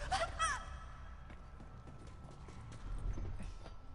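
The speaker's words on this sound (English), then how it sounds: "Tess, you need to chill the F out with those loud footsteps" Loud, hard footsteps in The Last of Us video game, a quick run of clopping steps close by, with a brief breathy vocal sound at the start.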